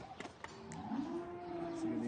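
A ten-day-old calf moos on a farm, one drawn-out, close call that swells and holds for over a second, with some faint background noise and brief knocks before it.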